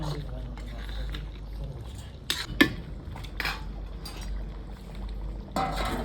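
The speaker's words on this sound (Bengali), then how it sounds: "এবারে মাছটা ঢেলে দিই" Fish poured into a cooking pot of curry, a few loud metallic clanks and scrapes of utensils against the pot over a low background hum, close by and irregular.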